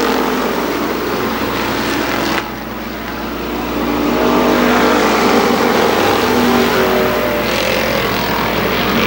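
Race cars in a 1995 championship feature at Columbus Motor Speedway thundering along the backstretch, loud sustained engine roar that dips briefly then swells again as the pack passes close by.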